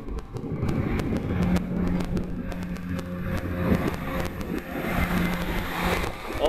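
A Yunma C1 scooter pulls away and speeds up, a low motor hum and whine rising under outdoor road noise with a few sharp clicks, heard close by.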